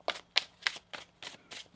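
Tarot cards being shuffled by hand, six quick crisp riffling bursts in a steady rhythm, close and fairly loud, with no talking.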